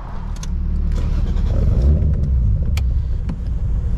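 A 450HP Toyota Chaser with a 1JZ-GTE engine idling low, a steady close rumbling drone with a slightly uneven pulse and a few faint metallic ticks.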